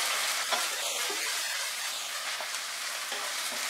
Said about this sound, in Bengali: আদাটা দিয়ে আমি আরো 1 মিনিট ফ্রাই করব মিডিয়াম আঁচে।